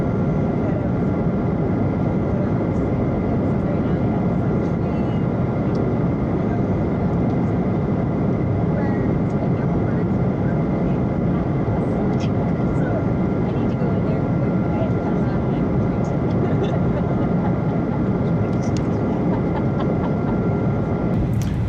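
A United Airlines airliner in flight from Denver to Phoenix fills the cabin with a constant, loud, broad engine and air roar. The drone stays steady throughout, and a voice can be heard speaking faintly beneath it.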